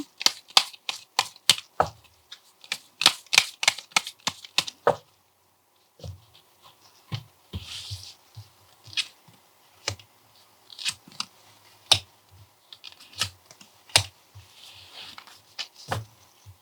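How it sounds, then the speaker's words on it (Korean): Tarot cards are handled and an extra card is drawn: a quick run of crisp, sharp flicks and snaps, then sparser taps and slides after a short pause. The sounds are close and clear with no talking. "추가 카드 한번 뽑아볼게요"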